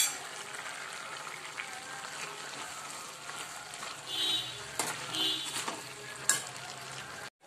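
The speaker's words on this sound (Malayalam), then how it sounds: "നമുക്ക് ഇതിനോടൊപ്പം 1/4 ടീസ്പൂൺ ഗരം മസാല പൊടിയിട്ട് ഇളക്കി കൊടുക്കാം" Vegetables being stirred in a pan with a spoon after garam masala powder is added for a Kerala vegetable biryani, giving a steady close sizzle with scraping stir strokes and a few sharper clinks.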